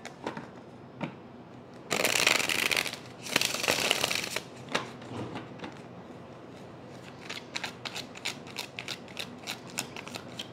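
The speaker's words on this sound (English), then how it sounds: "Let's get one more shuffle for Taurus." Tarot cards are riffled in two quick bursts, followed by a series of soft flicks and taps as they are handled and squared, close up.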